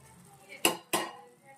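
Paneer being stirred into a rich shahi paneer gravy in a pan, two distinct clanks of a spoon against the metal over a quiet background.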